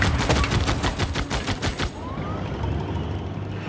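Rapid bursts of unit gunfire in the strategy game Civilization VI, about a dozen sharp evenly spaced shots in a quick volley, then a lower rumbling aftermath with a faint whistling streak, no voices.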